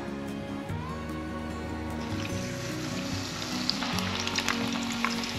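Pieces of taro sizzle and crackle steadily in hot oil over high heat, a dense, continuous frying hiss with scattered sharper pops building toward the end, close up with no talking.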